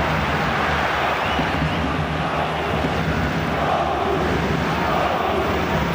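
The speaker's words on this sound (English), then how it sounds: "that effort has certainly inspired the crowd, because they've gone up a gear a little, with their sound" Stadium crowd roaring during a 2002-03 Champions League match between Dortmund and Arsenal, a dense unbroken wash of cheering and chanting that stays loud and even throughout.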